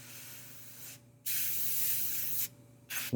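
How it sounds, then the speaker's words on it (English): Close airbrush spraying paint onto a Wolverine model figure: short bursts of steady hiss separated by quick pauses, with no voices. "I'm adding some shading with the airbrush"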